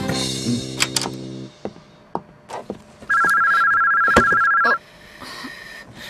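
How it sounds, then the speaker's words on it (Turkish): An office telephone rings with a steady electronic bell tone lasting about two seconds, sounding fairly loud and close amid scattered knocks and background room noise. "Şu telefona bakıver cicim."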